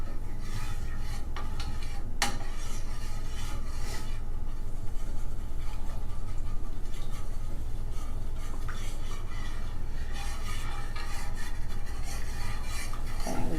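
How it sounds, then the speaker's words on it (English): Scraping and rubbing of a utensil working through a thick keto fat bomb mixture in a bowl, a continuous close rasp with a few sharper knocks, with no talking. "Lots of stirring."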